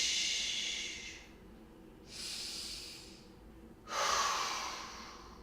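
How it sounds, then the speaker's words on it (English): Three heavy, hissing breaths, each one a drawn-out inhale or exhale, taken close to the microphone during a beginner floor exercise on a mat. "So inhale, exhale, push, inhale, exhale, push"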